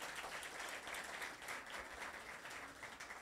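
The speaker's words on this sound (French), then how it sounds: "Sous vos applaudissements, s'il vous plaît." Faint, continuous applause from a television show audience, an even crackle of many hands with no voices standing out.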